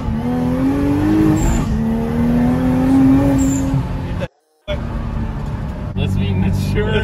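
A car with a swapped 3.0T engine warming up: a loud, steady engine drone up close with slowly rising and falling pitch, a brief cut-out midway, then more running.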